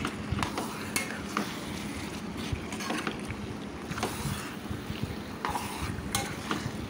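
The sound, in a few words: stirring chicken curry with ginger-garlic paste and onion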